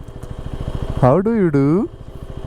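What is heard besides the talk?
motorcycle radiator cooling fan running at idle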